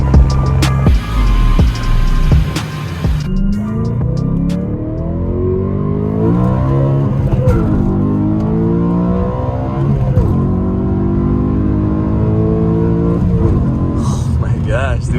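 A BMW E92 M3 fitted with an M Performance exhaust revs loudly and close by, its high-pitched yet muffled engine note sweeping up and down through repeated throttle blips, with voices talking over it.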